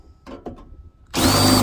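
A power drill fitted with a cheap, completely worn-out bit is used while working on a locked Freightliner truck door. A few faint knocks come first, then the drill starts abruptly and runs loud and steady to the end.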